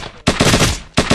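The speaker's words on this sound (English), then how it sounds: "So when I shoot," Rapid gunfire bursts from a player shooting in a Unity game, two loud clusters of quick shots separated by a brief gap, close and punchy with no talk.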